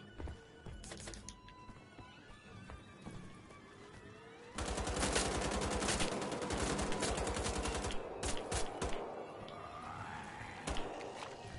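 Rapid bursts of automatic gunfire in the shooter game Wolfenstein: The Old Blood, a dense sustained volley of close, loud shots kicking in midway after sparser single shots and background effects.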